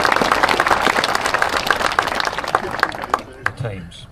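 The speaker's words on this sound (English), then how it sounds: "Round of applause." An audience at the Cliffhanger 2025 intro and briefing breaks into loud, dense clapping that carries on steadily, then thins out and fades toward the end.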